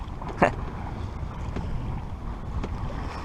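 Wind rushes across a sailboat under sail near Les Embiez, with soft water lapping at the hull, a brief knock near the start and steady low buffeting continuing throughout.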